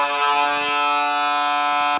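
A Weaver air raid siren sounds a loud, steady, harmonic-rich wail at one held pitch, close and unbroken for about two seconds before cutting off sharply at the end.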